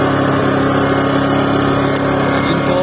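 An AKSA AAP 2200I inverter generator running close by, a loud, steady engine drone with a constant hum and no break across the whole stretch.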